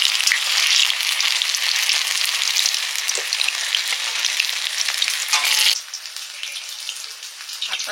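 Jute leaf fritters fry in hot oil in a wok, giving a loud, close, continuous crackling sizzle that softens noticeably near the end.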